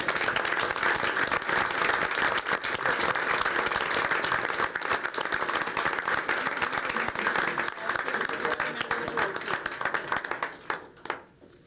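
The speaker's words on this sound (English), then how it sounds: "Ladies and gentlemen, round of applause." Audience at a 1997 school board meeting applauds steadily, dense clapping held for about ten seconds before tapering off at the end.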